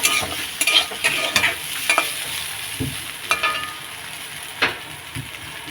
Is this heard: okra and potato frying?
yes